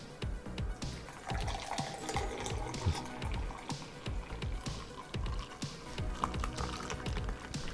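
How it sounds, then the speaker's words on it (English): Nitro Pepsi poured hard straight down into a glass gives a continuous foamy splashing and fizzing, with dense bubbling and irregular liquid gurgles throughout. "Pouring it hard, which means you don't pour it at an angle. Just kind of let it go in."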